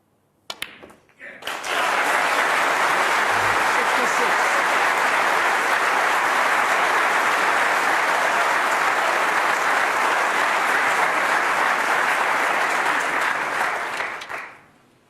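A snooker crowd at the 2016 World Championship semi-final gives Alan McManus sustained applause, a dense, loud wash of clapping that swells in, holds steady for over ten seconds, then fades away.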